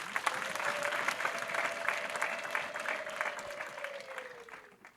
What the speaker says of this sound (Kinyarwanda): Amashyi ku Mana yacu.